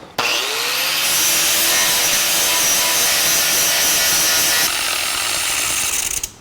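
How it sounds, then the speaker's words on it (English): A grinder grinds welds off the front end of a 1949 Chevrolet gasser, spinning up at the start into a loud, continuous abrasive scream that holds steady with a slight shift midway, then winds down at the end; no talking. "Let's grind these welds off."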